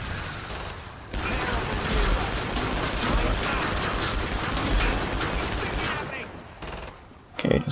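Sustained, dense gunfire in the zombie shooter Killing Floor 2 chatters and rattles nonstop for several seconds, loud and close with mechanical clanks mixed in, cutting off abruptly near the end.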